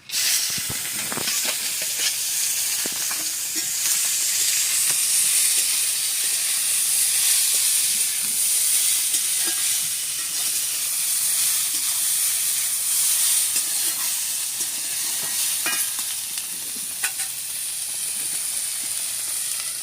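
Snake gourd pieces dropped into hot oil with fried spice tempering, giving a loud, continuous hiss and sizzle for about twenty seconds, with scattered crackles and stirring clatter.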